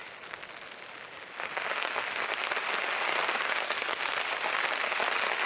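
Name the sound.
heavy rainstorm in the woods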